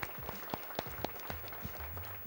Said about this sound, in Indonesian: Berikan tepuk tangannya meriah dong buat kita semua.